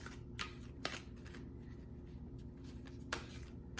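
Oversized tarot cards being shuffled by hand, soft riffling bursts and papery flicks over a low steady hum, fairly quiet and close, with no voices.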